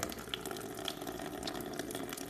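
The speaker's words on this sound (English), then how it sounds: "As soon as we take the cap off, the fluid will start to drain." Coolant draining from the radiator of a Honda CB500X motorcycle after the cap is removed, a steady splashing, gushing flow that stays close and continuous.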